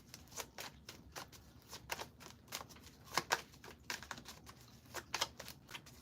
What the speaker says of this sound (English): There's a lot of shuffling here.